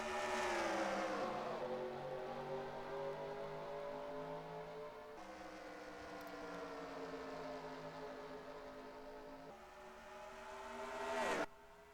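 NASCAR Racing 2003 stock cars accelerating at Phoenix, a sustained engine roar rising and falling in pitch as cars pass, with a sharp loud swell near the end.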